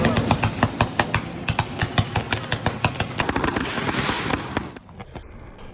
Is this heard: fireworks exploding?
yes